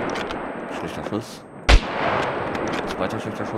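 A single sharp gunshot in the game SCUM cracks loudly and close against a murmuring background, followed by a short decay.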